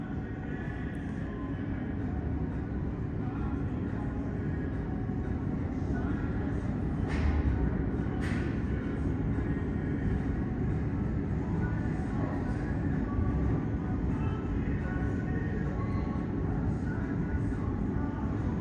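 A Siemens VAL 208 NG automated metro train, number 86, passes on a Toulouse Tisséo line during a transfer, giving a loud continuous broadband rumble and rush that holds steady throughout and covers everything else.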